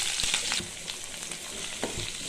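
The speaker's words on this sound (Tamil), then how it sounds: "வெங்காயம் சேர்த்து கொஞ்சம் நல்லா வதக்கிக்கலாம்." Chopped onions sautéing in oil with fenugreek and seasoning vadagam for a spicy fish curry, a continuous bright sizzle broken by several sharp scrapes and taps of a spoon on the pan, close up with no voices.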